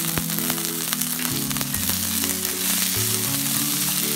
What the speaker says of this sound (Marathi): 2 मिनिटं परतून घेऊया।